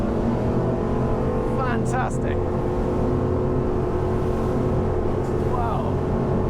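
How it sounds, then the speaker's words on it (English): Twin V8 engines drive a SAY 42 carbon superboat at high speed on the open sea, a loud, steady roar with hull and water rush throughout, and a person briefly speaks over it. "The noise of those V8 engines is absolutely something else."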